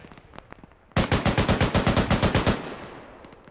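Gunfire in the military video game ArmA 3: a single burst of about fourteen rapid automatic shots rings out close and loud, then leaves a short fading echo.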